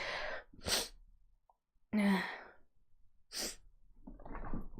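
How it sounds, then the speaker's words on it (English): A person sneezes in a quiet room during a read-aloud story, with sharp breathy bursts and an intake of breath between them, close and clear. "I have to sneeze."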